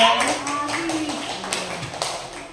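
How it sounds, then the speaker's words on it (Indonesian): Schoolchildren in an elementary coding class clap for a classmate group, a short burst of scattered hand claps with an adult voice talking over it. "Tepuk tangan untuk kelompok 2"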